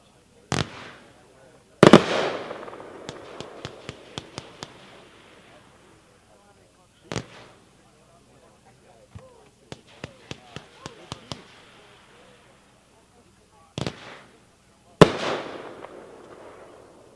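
A Magnus Fireworks Stunt Pilot cake firing a 29-shot sequence outdoors, loud sharp launch thumps and bursts spaced irregularly, some followed by rapid crackling pops, with short gaps of quiet between volleys.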